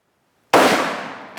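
A single loud, sharp rifle gunshot fired while hunting a buck in Australia, bursting suddenly out of silence and trailing off in a short outdoor echo.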